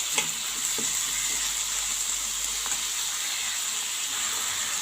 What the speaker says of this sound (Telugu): ఇప్పుడు టమాటా పీసెస్ వేసేస్తున్నాను. వీటితో పాటు ఆనియన్స్ కూడా కొంచెం ఫ్రై అవుతాయి కదా